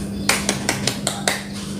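Children clapping hands during a Sunday school game at an Indonesian church, six quick sharp claps in a row over a low hum.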